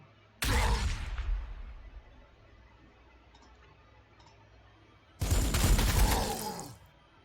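A frag grenade detonates with a loud, sharp blast that decays over a second, followed by quieter ticks and another heavy burst of explosive gunfire in the Warhammer 40,000: Sanctus Reach strategy game, with no voices.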